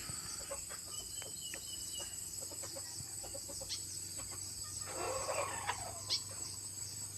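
Chickens cluck in short scattered calls among decoy roosters at a fighting-cock farm, with insects buzzing steadily in the background; no one speaks.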